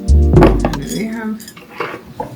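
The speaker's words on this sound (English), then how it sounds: "these 2 cute bowls, serving bowls" Ceramic serving bowls being set down and handled on a table, a loud clattering knock up front followed by lighter clinks and scrapes.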